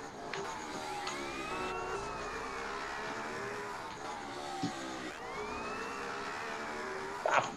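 A police car siren in the video game GTA San Andreas wails in rising and falling sweeps over a steady engine drone, moderately loud, with a couple of sharp knocks near the end.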